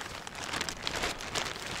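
Steady rain falls outdoors during a November fishing trip, a soft, continuous patter and hiss at moderate level with no voices.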